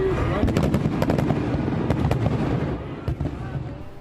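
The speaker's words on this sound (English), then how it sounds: "It happened during a fireworks display." Fireworks crackle and pop in rapid, irregular bursts at a fireworks display in Orlando, sharp bangs layered over a steady murmur of crowd noise.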